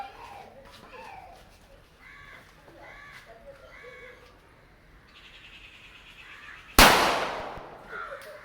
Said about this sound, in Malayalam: ഇതാണ് പടക്കം